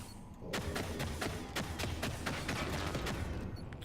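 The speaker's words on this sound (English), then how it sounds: "Oh, this gun does not shoot well." Rapid, loud bursts of gunfire from a weapon in the zero-gravity sci-fi game Downward Spiral: Horus Station, a steady stream of sharp evenly spaced shots filling the whole stretch after a brief quiet opening.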